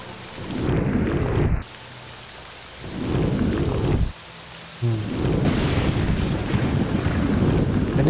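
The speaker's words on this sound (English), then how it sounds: "And it's raining again." Steady heavy rain with rumbling thunder in Morrowind, the downpour swelling and dipping in loud surges, with no voices.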